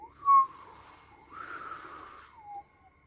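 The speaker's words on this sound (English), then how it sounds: "You hear a faint whistle" A faint, eerie whistle sounds in a horror tabletop game: a thin tone rises, fades, then returns as a breathy hiss that slides down at the end, quiet and alone.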